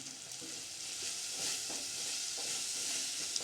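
Egg rice with pepper powder and coriander is stirred in a hot pan, giving a continuous close sizzle with soft, repeated scraping of the spoon through the rice, with no talking.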